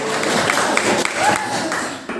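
A group in a sharing session applauds, with steady dense clapping throughout, fairly loud and close, and voices mixed in underneath.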